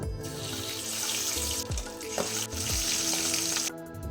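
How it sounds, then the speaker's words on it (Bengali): Steady, loud sizzling of tengra fish frying in hot oil, a broad hiss throughout with a few clinks and scrapes of a utensil, no talking. "এই একইভাবে আমি বাকি মাছগুলোকেও ভেজে নেব"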